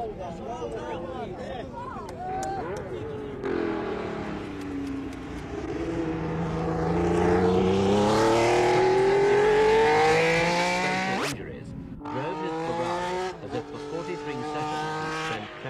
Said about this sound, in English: He drove his new machine out onto Ferrari's private track and put it through its paces.